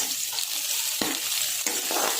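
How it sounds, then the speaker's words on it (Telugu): Loud, continuous sizzling of spices frying in hot tempering oil for buttermilk rasam, with occasional stirring scrapes breaking through the crackle. "వీటిని ఇప్పుడు తాలింపు వేయాలి"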